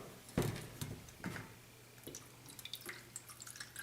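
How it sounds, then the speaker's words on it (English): Water poured into a large pot on a stove, meant as the outer pot of a double boiler for clove and olive oil: a few splashy pours and drips near at hand, quiet and intermittent. "And now I'm going to add some water"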